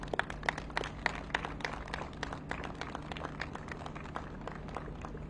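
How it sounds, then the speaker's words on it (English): Faint, distant applause from a gathered crowd honoring the crew of the Coast Guard cutter Hamilton, a thin scattered patter of clapping over a low steady hum for several seconds. "How about a round of applause for the ship, the Hamilton, and the efforts that they did over the last 2 months."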